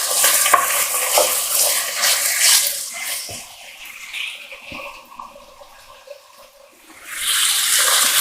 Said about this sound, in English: we want to fry this for about 3 to 4 minutes, and just till it's nicely coloured